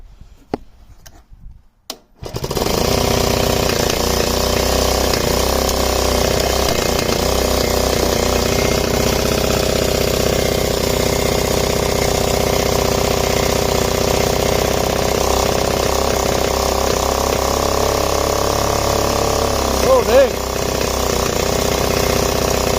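Small go-kart engine with a new spark plug, catching after a few rough false starts, then idling steadily and loudly close by with a brief rev near the end.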